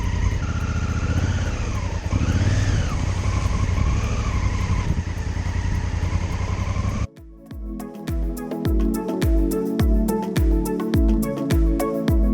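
A 2017 Honda Africa Twin motorcycle revs hard with wheel spin on deep rocks on a muddy green lane, a loud engine roar followed by rapid rhythmic thumping and clattering of tyres and stones.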